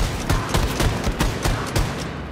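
A heavy gun in the shooter game Wolfenstein II: The New Colossus fires in quick bursts, a steady chain of loud, punchy shots close up that stops abruptly near the end.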